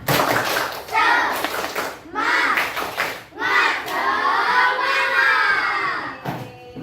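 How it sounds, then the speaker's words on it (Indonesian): A class of children performs a rhythmic spirit clap chant together, loud group clapping and shouted chanting in repeated bursts filling the room, with brief pauses between phrases. "Oke, 1, 2, 3. Tepuk semangat."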